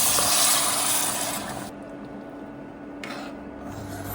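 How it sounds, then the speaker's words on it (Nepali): Hot water poured into a simmering curry base for omelette curry, a rushing splashing pour up close that fades partway through, then a softer liquid sound resumes. "अब आवश्यकता अनुसारको तातो पानी हाल्ने हो"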